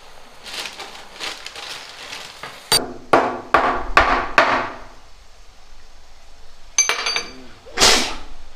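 A cardamom pod is crushed and ground by hand in a home kitchen while making gulab jamun from Parle-G biscuits, giving a series of sharp, close knocks and crunchy taps in irregular bursts with quiet gaps between.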